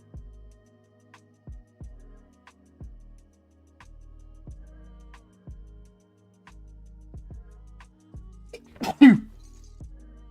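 A single loud, sharp human sneeze bursts out near the end after mostly quiet stretches with faint clicks and soft thumps.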